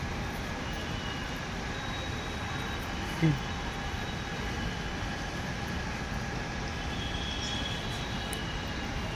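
A steady low rumble of a Pune Metro train at a station platform, with a faint distant announcement-like tone and a brief thud midway.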